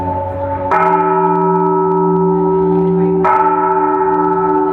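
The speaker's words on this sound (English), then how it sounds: "the church bells rang" Church bells ring steadily, with a struck tone that sustains and hums, and a fresh strike partway through; no voices.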